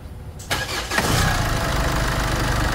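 A Chevrolet Trailblazer in a garage for a rack and pinion rebuild cranks briefly, then catches and settles into a steady, close engine idle.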